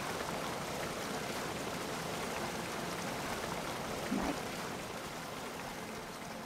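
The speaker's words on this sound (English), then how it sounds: "And just this nice waterfall." A waterfall in the video game Wylde Flower gives a steady, even rush of falling water. It holds at a constant level throughout, with a faint brief sound near the end.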